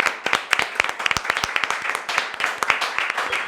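A small audience claps, with sharp individual hand claps spread irregularly across the whole stretch, close and fairly loud with no talk over them.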